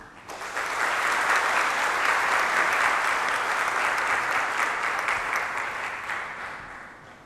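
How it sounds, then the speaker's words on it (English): Warm audience applause in a lecture hall welcoming a professor to the stage, a dense wash of clapping that swells quickly, holds steady, then fades away. "please give a big applause and warm welcome Professor Wong Po Kam on the stage"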